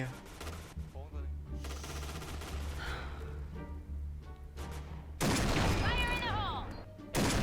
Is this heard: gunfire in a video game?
yes